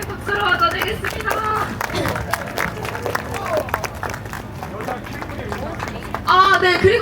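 Crowd at an election-annulment protest rally in Gwacheon clapping in welcome, a dense steady patter of many hands under crowd chatter, swelling louder near the end.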